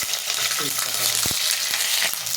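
Cumin seeds and dried red chillies frying in hot oil, a steady broadband sizzle with a few sharp crackles and pops and a faint scrape of stirring, close and fairly loud, with no talking.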